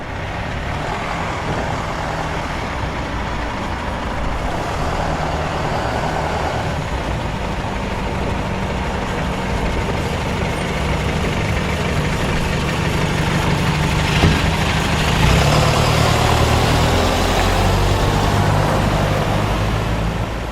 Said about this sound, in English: In the weeks prior to the show, it had received a Cummins Euro 6 engine.